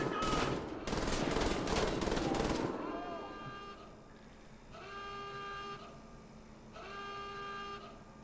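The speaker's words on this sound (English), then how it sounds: "Camping with a minigun in a single player game." Rapid minigun fire from the Wolfenstein video game rattles loud and dense for about two and a half seconds, then gives way to quieter tonal game sounds with repeating sustained electronic notes.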